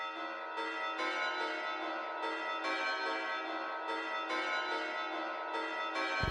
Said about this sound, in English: Moving on, we're going to add another sustaining bell preset.